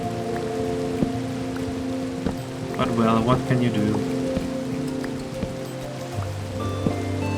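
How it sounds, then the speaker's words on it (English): Rain patters steadily on a surface, close and fairly loud, with scattered drips, while a person talks over it. "And I don't like really don't like the goddamn rain."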